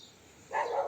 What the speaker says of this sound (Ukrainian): Так, вибачаюсь за собак сусідських,